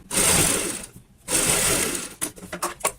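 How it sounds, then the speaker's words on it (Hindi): A sewing machine runs long basting stitches on a cushion cover in two loud, sustained whirring bursts with a short pause between, followed by a few quick clicks and stops. "यहाँ पे हम कच्ची सिलाई लगा लेते हैं इस तरीके से"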